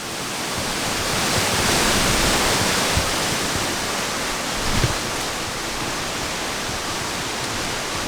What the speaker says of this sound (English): It's raining quite hard now.